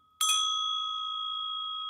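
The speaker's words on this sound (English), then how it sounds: "Dragon bell." A single struck dragon bell rings out with a sharp metallic strike, then a clear, pure tone lingers and slowly fades across the remaining two seconds, alone and fairly quiet.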